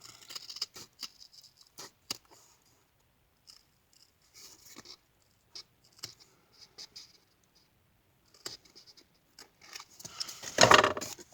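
Scissors snip a craft project in sparse, sharp little cuts and soft handling clicks scattered over near silence, with a louder rustling burst near the end and no talking.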